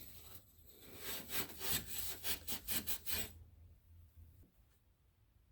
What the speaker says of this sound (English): Just gonna do my best to clean all the residue off